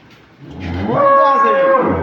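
A dairy cow on a farm lets out one loud, drawn-out moo that rises and holds for about a second, close by, with no talk.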